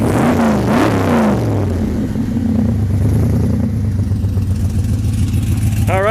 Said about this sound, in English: I'll let you listen to the exhaust on it.